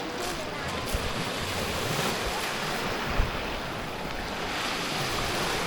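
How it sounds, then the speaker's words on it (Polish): Baltic Sea waves washing onto a stony beach at Dąbki out of season, a steady broad surf rush blended with buffeting wind noise on the microphone, continuous and fairly loud throughout. "Musisz poczekać aż przypłynie fala."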